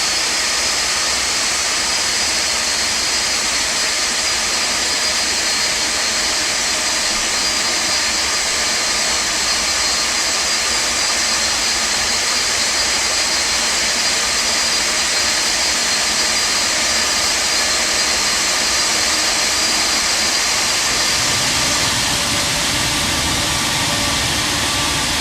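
Jet engines of a Felis Boeing 747-200 heard externally in X-Plane over Kazakhstan: a loud, continuous roar with a high whine, steady throughout, its low rumble thickening near the end.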